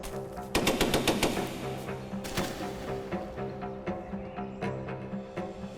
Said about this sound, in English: Today we fire the most sophisticated weapons in the world here, and do it very well.